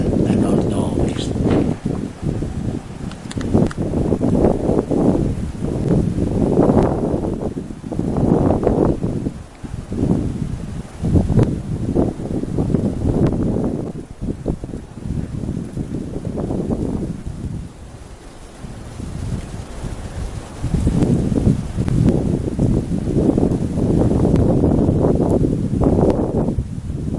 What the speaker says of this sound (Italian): raffiche impetuose del vento di caduta da nord-ovest